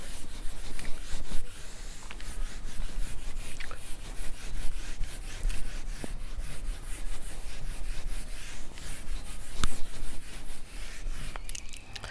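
Continuous scratchy rubbing as writing is erased from a board during a maths lesson, steady and close for about twelve seconds, with small squeaks and no talking.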